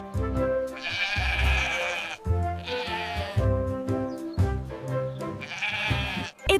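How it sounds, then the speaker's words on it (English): A sheep bleats several times in a row, giving loud, wavering calls that come in three main bursts. Lower grunting noises sit underneath, and there is no talk. "It's a sheep."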